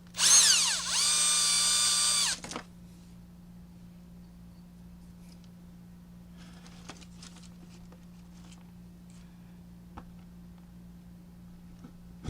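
A power drill bores into a console-to-JAMMA adapter resting on a desk, a loud whining burst of about two seconds that cuts off into near silence with a few faint clicks and handling taps.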